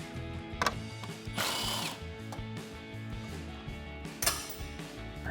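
A ratchet fitted with an extension and a 10mm socket loosens grille bolts on a 2014–2015 Chevrolet Silverado 1500. Quick, close mechanical clicking runs in several short bursts, with a few sharper metallic knocks in between.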